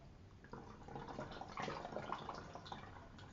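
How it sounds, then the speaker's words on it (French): White vinegar being poured into a homemade multi-purpose cleaner, a steady liquid trickle and splash running continuously for a few seconds, close and moderately quiet. "on va mettre un tiers de vinaigre blanc"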